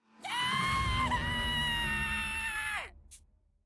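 A character in the video game Process of Elimination lets out one long, loud, ear-splitting scream with a strong sustained pitch that dips briefly midway and bends downward at the end, followed by a faint short tail.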